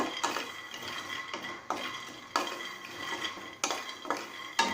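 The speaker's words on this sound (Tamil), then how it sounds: "வேர்க்கடலையை ஸ்லோலே வச்சு வருங்க." Peanuts roasting in a pan on slow heat, stirred with a spoon that scrapes and clatters against the metal in regular strokes over a soft background sizzle.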